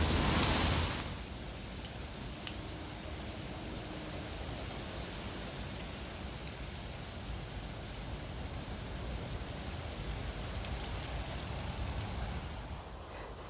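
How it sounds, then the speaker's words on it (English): Torrential rain pours steadily outdoors in a garden during winter, a dense continuous hiss of heavy drops that stays even for the whole stretch after a brief louder burst at the start. "So I've tried to come back over the last 2 days and it is once again pouring with rain."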